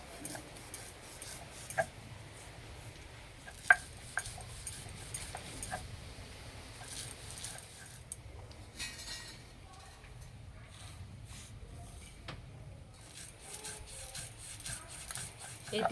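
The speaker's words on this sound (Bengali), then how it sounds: "আর জল ছাড়া বেটে নেব।" Roasted sesame seeds are ground dry, without water, giving a soft, uneven rubbing and rasping with a few sharp clinks and taps. The grinding is quiet and close and carries on throughout.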